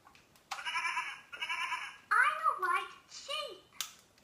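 A toy sheep gives a short electronic bleat, heard close and fairly quiet, mixed with a voice talking.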